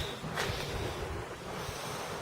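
Outdoor wind blowing across the microphone beside a welding table on a concrete slab, a steady rumbling gusty roar throughout with a brief brighter whoosh early on.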